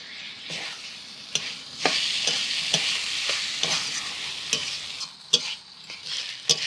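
Shrimp stir-fry in a hot pan, giving a bright, steady sizzle. Repeated sharp scrapes and taps from stirring break through at irregular intervals.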